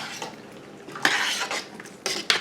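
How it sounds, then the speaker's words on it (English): Okra being mixed in a pot, a few close, sharp clinks and scrapes of a utensil against metal, separated by short pauses, with no talking. "I'm going to mix all that up."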